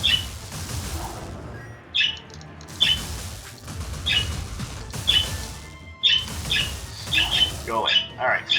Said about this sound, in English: the birds outside, and of course that's creating lots and lots of background noise